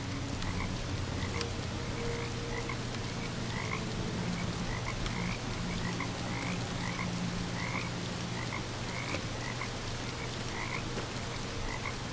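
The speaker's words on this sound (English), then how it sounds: "hear frogs" Frogs croak in the video game Dishonored: Death of the Outsider, repeated short croaks in an irregular chorus over a constant low ambient hum, with no voices.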